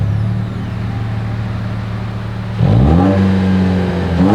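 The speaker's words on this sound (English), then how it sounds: "As always, here is that exhaust clip." A 2024 Toyota Tacoma SR5 pickup's exhaust idles with a deep steady rumble, then revs sharply upward partway through and holds a louder, higher drone.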